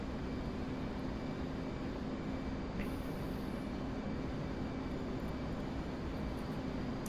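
An F/A-18 jet engine at military power in DCS World, flown as a Blue Angels legacy solo, gives an unbroken, dense roar that stays steady and loud throughout.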